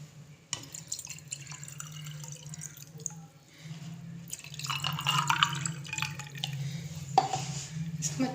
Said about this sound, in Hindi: साथ हम डालेंगे अब पानी।